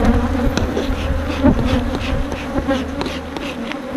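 Honeybees swarm and buzz steadily around an open hive during an inspection toward its front end, a dense, close, continuous drone with brief louder passes near the microphone and no voices.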